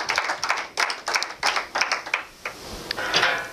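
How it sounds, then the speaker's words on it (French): A church congregation claps together in rhythmic bursts, fairly close and loud, with a few voices faintly mixed in. "Applaudissons quand même pour notre Dieu."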